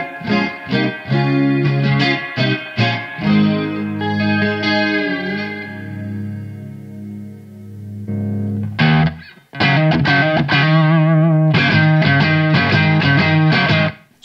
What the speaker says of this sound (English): That's just a weed whacker distortion.